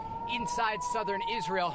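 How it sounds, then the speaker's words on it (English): Air raid sirens blare across Ashkelon, Israel, a steady high wailing tone running continuously beneath a voice talking over it. "The sirens right now are blaring all around the city of Ashkelon"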